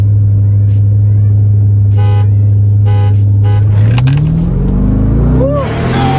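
A C6 Corvette fitted with a Vararam Snake cold air intake races a 5.0. Its loud, close engine drones steadily, then surges into a hard rising rev as it accelerates.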